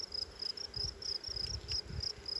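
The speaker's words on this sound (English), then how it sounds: "I got so many bees." Honeybees buzz faintly around an open hive during an inspection, a soft, steady insect drone with light rustling and handling thumps close by.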